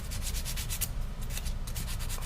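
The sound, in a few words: emery cloth rubbing surface rust off a magnetic pickup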